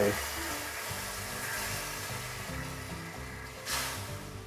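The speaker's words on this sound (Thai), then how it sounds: "ตั้งกระทะนะครับ ผมใช้ ไฟปานกลางนะครับจากนั้นก็ใส่ ตัวหัวกะทินะครับลงไป" Steady soft sizzling and hissing of coconut cream frying in a hot pan over medium heat, continuous throughout, with a low rumbling hum underneath.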